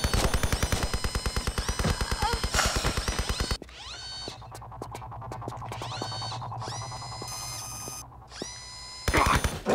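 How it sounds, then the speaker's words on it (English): A machine gun in Tomb Raider Chronicles fires long, rapid bursts of sharp, loud shots, breaks off for several seconds of tonal game sounds and humming, then opens up again briefly at the end. "I actually can't let him see me or he'll activate the machine gun"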